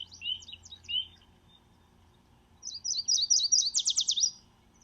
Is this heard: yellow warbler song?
yes